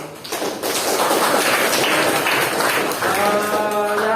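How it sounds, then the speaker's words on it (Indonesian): Pupils in a classroom clapping together, a dense, loud burst of applause that starts abruptly and continues evenly, with a brief voice near the end. "Oke, tepuk tangan dulu."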